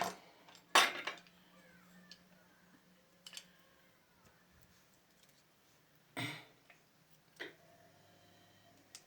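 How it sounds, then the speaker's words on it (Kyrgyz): Garlic cloves being chopped on a board in a home kitchen, a few sparse, sharp knocks separated by long quiet gaps, close and fairly faint. "Азыр чеснокту майдалап"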